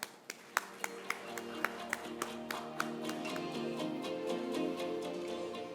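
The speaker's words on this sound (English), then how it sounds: "A big round of applause, guys." Audience applause for a panelist at a FINSEC 2023 conference session on zero trust security, faint and sparse, with a few distinct single claps at the start that fill out into light, quiet clapping over a steady background tone.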